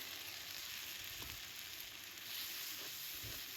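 Spices stirred in mustard oil in a pan for beef ear fry sizzle with a constant, steady crackle, with a few soft stirring knocks and scrapes beneath it.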